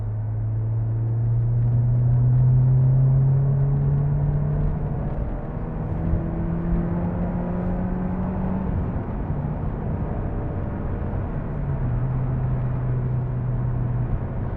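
A Honda S2000 engine with an aftermarket Miltech exhaust hums and drones steadily with a deep, throaty exhaust note, rising and falling gently as it cruises, with no voices.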